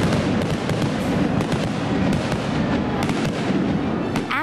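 A professional fireworks display fires continuously, with dense crackling bursts and sharp pops stacked over a loud, rumbling background for several seconds.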